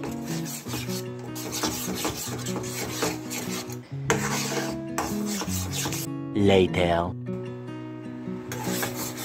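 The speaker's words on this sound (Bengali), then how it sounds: "আমটাকে ভালো করে পাক দিয়ে নেব, ঘন করে নেব আমটাকে।" Mango pulp being stirred and thickened in a pan: steady rubbing, scraping strokes of a spoon against the pan, close up and continuous, with a brief shrill squeak midway.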